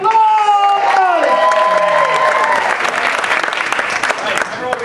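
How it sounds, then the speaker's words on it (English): A theater audience breaks into warm, sustained applause mixed with some cheering, a dense wash of clapping that starts over a few trailing sung or spoken tones and continues steadily to the end. "Let's give them a warm round of applause!"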